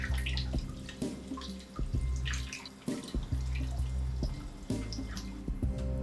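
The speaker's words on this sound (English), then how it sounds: "then I'm washing off some Brussels sprouts" Tap water runs and splashes over Brussels sprouts being washed in a kitchen sink, with irregular drips, knocks and handling noises throughout, close and fairly quiet.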